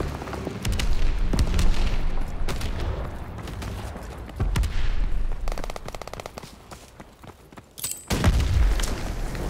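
Artillery fire in Call of Duty WWII, dense bursts of gunfire and heavy booming explosions layered into a loud continuous battle din, with a big blast near the end.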